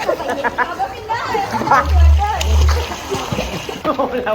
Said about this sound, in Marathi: आता बघूया चिल्ड्रन पार्टीने स्विमिंग पूल मध्ये छलांग मारली आहे